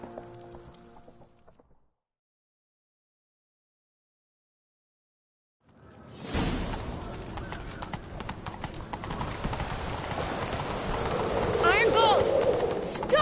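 Rapid clip-clop of horse hooves galloping in The Witcher 3 video game, loud and steady after a brief stretch of quiet, with busy clatter building toward the end.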